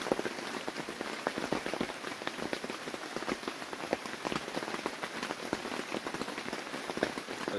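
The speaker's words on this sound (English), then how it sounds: "it's probably been raining for like 3 hours" Steady rain pattering on a surface at Flagpole Knob, dense irregular drops with a constant hiss, no voices, continuous throughout.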